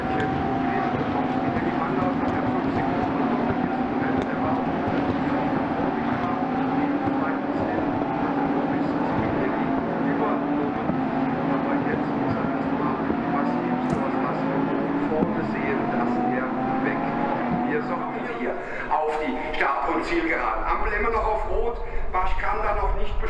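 A pack of 22 Lamborghini Super Trofeo race cars, 620 horsepower each, roar away at a race start, a dense, rising engine drone that builds and sweeps past, loud and continuous beneath an excited commentator.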